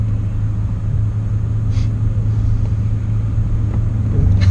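A BMW E39 M5 driven hard, heard from inside as a loud, steady low engine rumble and drone with faint higher whines, no one speaking.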